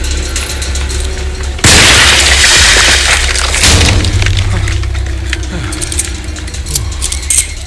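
A metal pipe weapon breaking in the horror video game Alone in the Dark, a sudden loud crashing burst with clinking debris that rings out before fading under lingering game ambience.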